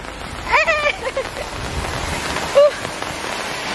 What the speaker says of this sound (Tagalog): Inulan tayo.